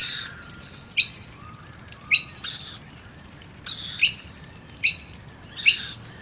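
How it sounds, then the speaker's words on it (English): A baby lorikeet among a mixed flock of wild Australian birds gives shrill, high-pitched calls in about six short separate bursts, fairly close and clear over quiet background, no talk. "That high-pitched sound is a baby lorikeet."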